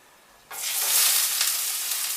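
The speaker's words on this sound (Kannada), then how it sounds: "ಆಮೇಲೆ ಫ್ರೈ ಮಾಡಬೇಕಲ್ವಾ ಆನಿಯನ್ ಫ್ರೈ ಮಾಡ್ಕೋಬೇಕು" Onions hit hot oil for street-style fried rice at a footpath stall, breaking into a loud, steady sizzle after a brief quiet start and frying on close and unbroken.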